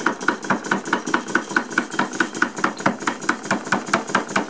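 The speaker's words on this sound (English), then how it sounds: "let's start the beam engine first" A Stuart model beam engine runs on steam from a 504 boiler, giving an even, quick chuffing beat of about four strokes per second at close range, alone and without talk.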